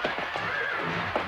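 A horse in a video game gives a loud, close whinny, its wavering call rising and falling over about a second alongside faint hoof clip-clops.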